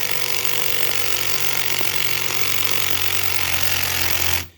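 A self-tapping screw driven into a John Deere riding mower's Tuff Torque hydrostatic transmission with a power tool: one continuous loud, grinding buzz for about four and a half seconds that stops abruptly, with no talking.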